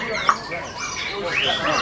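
A white-rumped shama sings bright, varied whistled phrases at a songbird contest, with rising and falling notes over a background murmur of voices and crowd noise.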